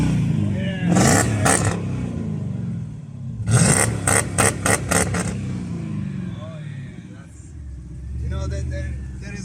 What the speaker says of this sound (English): Wow, that's a nice voice. Yeah, that's a good big engine.